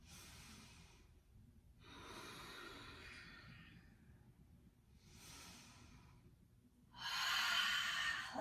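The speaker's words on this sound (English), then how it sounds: "Take 2 more big breaths in and out." Slow, deep breaths drawn in and pushed out during a yoga flow, each long airy rush rising and fading in turn, close and fairly soft against a quiet room, with no talking.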